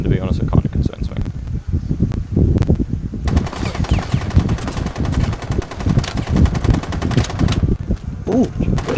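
Rapid gunfire in the video game Rainbow Six, dense bursts of shots crackling loudly and continuously throughout, with players talking over the shooting.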